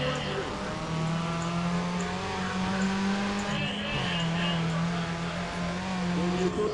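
A race car engine in the video game Need for Speed: ProStreet hums at a steady high pitch, dipping briefly as it shifts and then holding again, with a voice speaking faintly over it.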